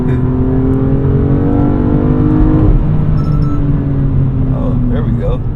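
A BMW M2's engine revs hard toward redline, its tone rising continuously before easing off after about two and a half seconds into a steady drone, with short bursts of voices near the end.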